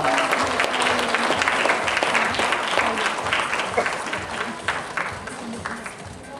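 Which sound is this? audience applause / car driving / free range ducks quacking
audience applause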